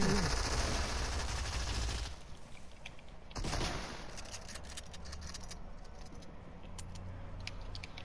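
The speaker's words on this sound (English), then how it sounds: "More people are shooting." Gunfire in a shooter video game crackles in quick bursts, a dense loud volley at first that drops away, then returns as scattered shots and clatter through the rest.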